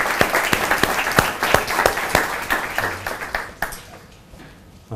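An audience applauds to welcome the speaker Hara Kenya at a design talk, a steady round of clapping that thins out and fades toward the end.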